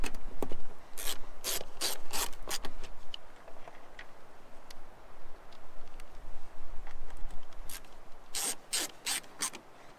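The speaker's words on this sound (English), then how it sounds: "line up your holes, and same thing. Just screw these in." Screws being driven into an Airstream furnace panel with a hand screwdriver, giving bursts of close ratcheting clicks and scraping turns, with quieter pauses between the bursts.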